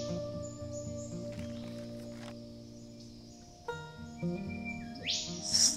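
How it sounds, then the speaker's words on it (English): Birds calling outdoors, with tonal chirps and whistles over a steady background hum, growing brighter and louder toward the end. "What magnificent birds."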